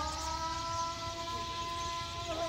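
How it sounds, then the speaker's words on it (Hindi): An evening Islamic call to prayer rings out over a village, a sustained, melodic amplified voice carrying from a distance over soft background bird chatter and faint ambient noise. "अज़ान शुरू हो गई है,"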